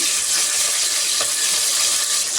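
Garlic, curry leaves and green chilli hit hot oil for sambhar tempering, giving a loud, steady, crackling sizzle that holds for the whole stretch with a brief pop in the middle.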